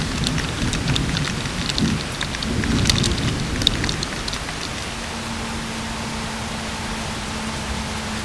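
Rain and hail fall steadily outdoors in Paris, a loud continuous wash with crisp pelting hits, easing slightly toward the end while a low steady hum lingers beneath.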